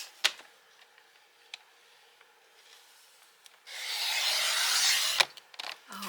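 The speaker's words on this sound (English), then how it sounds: "While I have my trimmer out, I'm going to go ahead and trim down what I will need on my designer paper" A paper trimmer slices card stock down to 5.5 inches in one close, rasping pass lasting about a second and a half, with a few light taps and clicks before and after.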